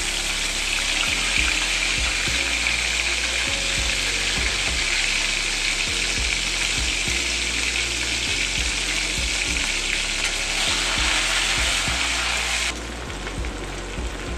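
Ginger and green chili paste hits hot oil in a pan for a vegetarian Bengali doi potol dish, giving a loud, continuous sizzle with faint stirring taps that drops off sharply near the end, and no voices.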